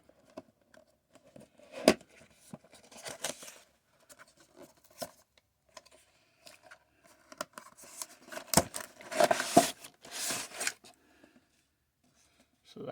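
Plastic tape on toy packaging being cut open with scissors, giving scattered close snips and crinkly rustles of plastic over a quiet background, with a denser burst of cutting and crackling near the end.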